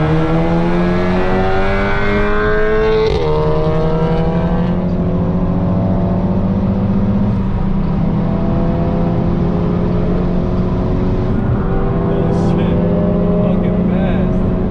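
Turbocharged MK6 GTI hatchback with a K04 turbo accelerating hard in a race, engine note climbing steadily through gears, loud and continuous, heard from inside.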